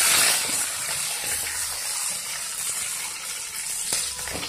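Curry leaves and green chillies hit hot oil on a low flame, giving a loud continuous sizzle and hiss that stays steady throughout, with no talking.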